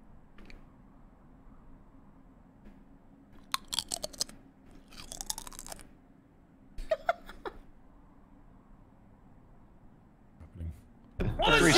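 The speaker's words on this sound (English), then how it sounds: "you want to hear a really crunchy chip?" A very crunchy chip gets eaten close to a microphone over a quiet gaming background hum: several sharp, loud bursts of crunching and chewing spread across the span, with faint laughter at the end.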